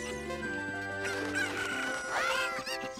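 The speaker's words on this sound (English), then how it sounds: "I can't pick up these chickens" Chickens in the Zelda: Ocarina of Time video game, clucking and squawking in rapid, overlapping calls with a rising crow-like cry, close and fairly loud against game music.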